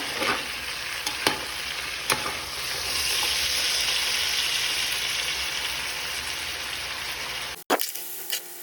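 Calabresa sausage and bacon fry in a pan while being stirred, a steady close sizzle with a few sharp scrapes of the spoon and a clunk near the end.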